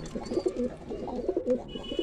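Racing pigeons coo inside a loft, soft throaty, rolling calls repeating in short bursts at close range, several overlapping coos over two seconds with no talking.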